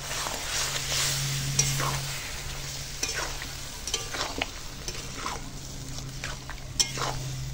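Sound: fried prawns being stir-fried with pointed gourd

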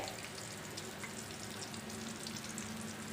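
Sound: eggplant slices frying in a pan

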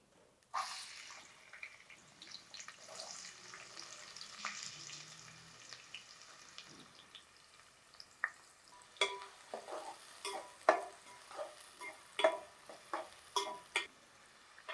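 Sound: onions frying in oil in a pan

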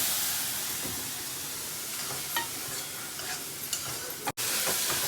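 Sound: onion, tomato and curry leaves frying in oil, stirred

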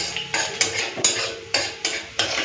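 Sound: frying and stirring nigella seeds in oil

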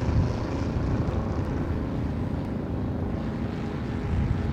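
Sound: car engine running

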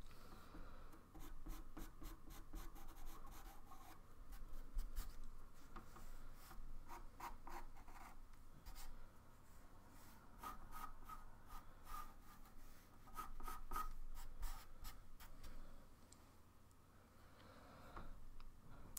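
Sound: pencil drawing on pastel paper

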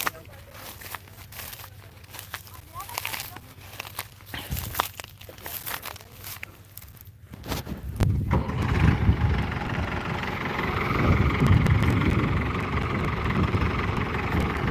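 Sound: tractor engine starting

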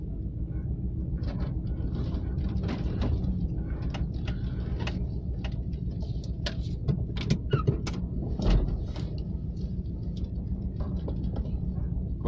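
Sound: Volkswagen T25 van pulling away in first gear, gear whine

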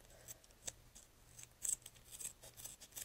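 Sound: scissors trimming duct tape

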